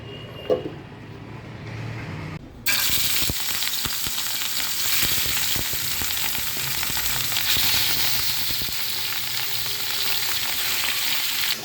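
Prawns being pan-fried bhuna-style give off a steady, loud sizzle that starts abruptly after a quiet opening, with faint stirring scrapes running through it and no talk.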